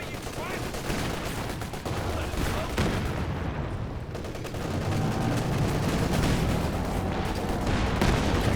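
Sustained battle gunfire from Company of Heroes 2, with rapid shots and rounds pinging off a tank's armour in a busy wartime skirmish, dense and continuous at moderate loudness with a faint voice underneath.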